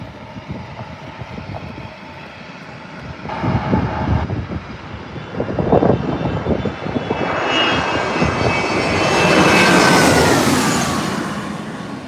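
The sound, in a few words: Air France airplane at San Diego airport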